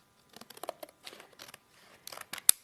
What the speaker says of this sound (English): I'm going to just wing it with some scissors today